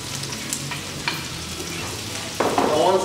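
Prawns sizzle and crackle in a hot pan while being stirred. Steady frying runs throughout, with brief scraping stirs, and the sizzle swells louder near the end.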